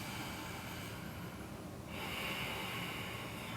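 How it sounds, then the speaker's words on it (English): Deep breaths drawn through the nose during a power yoga pose, close and fairly quiet: a long, slightly snorting exhale followed by a fuller, airy inhale. "2 more deep breaths"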